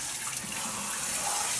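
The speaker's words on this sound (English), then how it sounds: "Water's going to run over the top." Tap water running over a dog during a bath, a steady close splashing and trickling flow with no talking over it.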